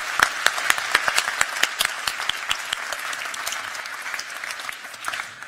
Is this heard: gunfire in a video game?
no